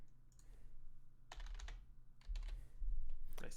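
Computer keyboard keys clack in quick irregular bursts of typing, close and fairly quiet, with no talking over them.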